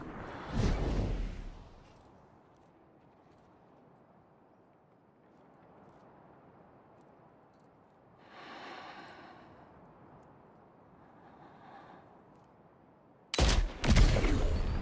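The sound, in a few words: gunfire in the video game Death Stranding 2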